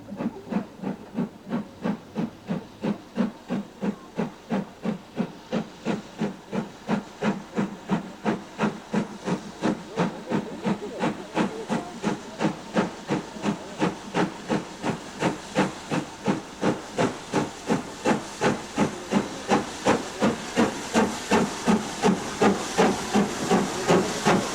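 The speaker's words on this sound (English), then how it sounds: "Britannia was passed for mainline work and is next seen on her second run, over the celebrated Settle and Carlisle line" British Railways steam locomotive Britannia working hard on the Settle and Carlisle mainline, with a steady, rapid exhaust beat of sharp chuffs over a hissing steam background that grows slightly louder throughout.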